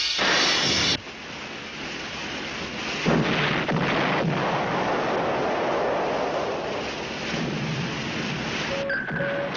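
Naval guns on a warship fire in a film scene, heavy booming blasts rolling into a long, loud rumble like surf, with a brief tone near the end.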